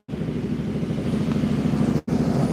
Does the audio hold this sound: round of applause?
no